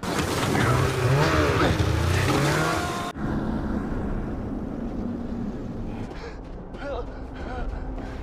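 A snowmobile engine droning loudly up close with wind buffeting, then cutting to a lower, rougher engine hum while voices occasionally speak over it.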